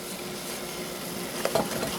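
Food for spicy mac and cheese cooking in a pan, giving a steady, low sizzle with faint stirring and a few small clinks near the end, no talking.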